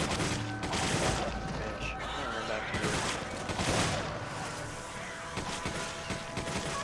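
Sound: gunfire in the video game Resident Evil 5

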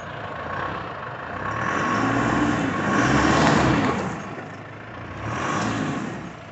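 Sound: Chevrolet S10 diesel 4x4 stuck, engine revving, wheel spinning

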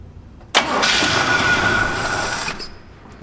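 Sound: 1972 Oldsmobile Cutlass engine starting

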